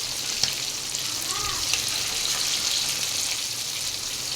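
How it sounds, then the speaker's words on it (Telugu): Chicken pieces fry in hot oil with a steady, close sizzle and fine crackling that holds throughout at an even level, without voices. "2 సార్లుగా ఈ చికెన్ మొత్తం ఫ్రై చేసేసుకుందాం"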